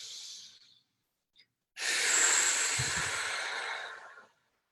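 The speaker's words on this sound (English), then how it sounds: "And one more time. Inhale." A deep inhale during breathwork meditation: one long, steady, airy breath close to the mic lasting a few seconds. A shorter, fainter breath comes just before it.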